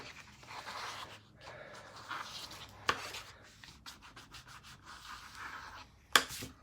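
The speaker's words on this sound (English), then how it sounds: "rub off any glue, and then that helps you keep your pages lined up" Soft rubbing and scraping as a hand burnishes mini album pages made with Stamperia Alice papers, wiping off leaked glue; steady close friction with two sharp snaps near the end.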